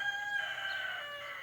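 A rooster's long crow rises and falls against a background of other fowl, fairly close and clear, with no talking, in Warkworth, New Zealand.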